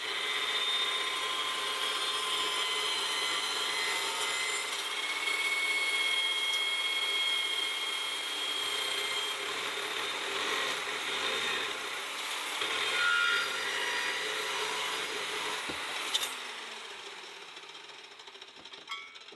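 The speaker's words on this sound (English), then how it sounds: "I just made that cut. There's no heat, perfectly clean cut. It's a cold cut saw." A cold cut saw grinds steadily through metal in a workshop, a loud continuous rasping cut that runs without a break and tapers toward the end, with no talking.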